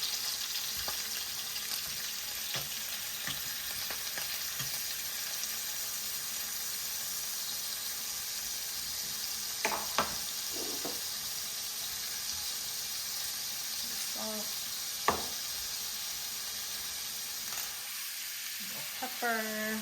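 Already cooked food sizzles steadily in hot olive oil in a pan, a continuous close frying hiss with occasional clinks and scrapes from handling, no talk.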